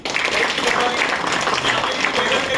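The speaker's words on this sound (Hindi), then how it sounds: "शर्मा जी के लिए थोड़ी तालियां होनी चाहिए" Audience clapping at a retirement-planning seminar, a short burst of fairly loud applause with voices mixed in.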